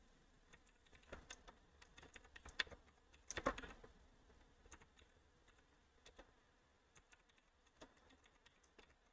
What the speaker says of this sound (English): I'm just here tapping away on my keyboard.